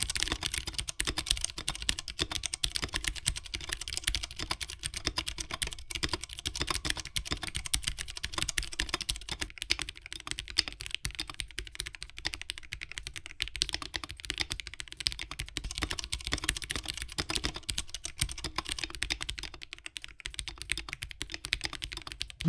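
Steady, rapid typing on a Ducky One 3 SF keyboard fitted with Cherry MX Clear tactile switches, a continuous close clatter of keystrokes with no voices.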